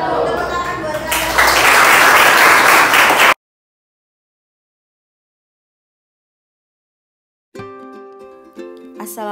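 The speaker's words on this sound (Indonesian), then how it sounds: "Tepuk tangan buat kalian." A classroom group claps together during an art and culture lesson, loud and dense for a few seconds before cutting to silence, followed later by unrelated tonal music.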